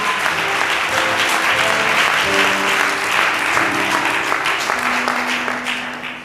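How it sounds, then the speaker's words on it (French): Sustained applause from a congregation during a Sunday church service, steady and full throughout with a faint voice and some tonal sound underneath. "Acclame Jésus ce matin"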